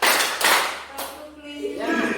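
A group clapping together in a couple of short unified bursts, with a voice speaking between them.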